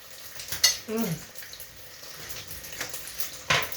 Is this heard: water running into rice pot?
yes